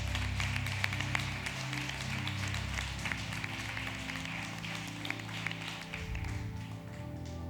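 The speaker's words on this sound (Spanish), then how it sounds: "Dale un fuerte aplauso al Señor en esta noche." Applause from a church congregation, a steady patter of many hands clapping with sharp individual claps scattered throughout.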